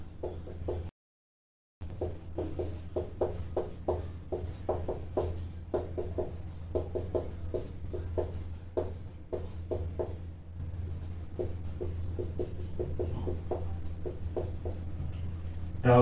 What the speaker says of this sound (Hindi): लिख देता हूं मैं यहाँ पे।